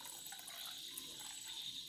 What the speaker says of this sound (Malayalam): ഞാനിപ്പോൾ ഒരു 4 ഗ്ലാസ് വെള്ളം ഒഴിക്കുന്നുണ്ട്.